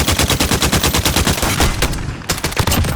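Rapid automatic fire from the RAAL MG light machine gun in Call of Duty Modern Warfare, a loud, dense stream of shots lasting about three seconds with a brief dip near the end before firing resumes.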